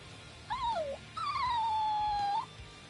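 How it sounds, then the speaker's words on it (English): Stray dog in the video game Bleach: Rebirth of Souls gives two whimpering wails, a short falling cry followed by a longer drawn-out moan that dips and then rises at the end. "We were merely trying to rescue the dog from that suspicious-looking man."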